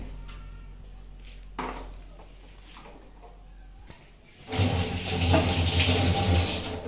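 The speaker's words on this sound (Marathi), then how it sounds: "आता उकळलेलं पाणी मी इथं चिंचेत पण थोडं घालते" After some quiet clinking and handling noises, boiled water is poured onto tamarind in a steady, splashing stream that continues to the end.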